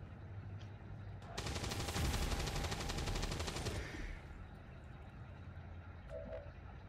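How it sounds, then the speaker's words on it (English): In XCOM 2, a sustained burst of automatic gunfire rattles loudly for about two and a half seconds, rapid evenly spaced shots standing out over quiet game ambience, then fading to stillness. "I'm gonna shoot that."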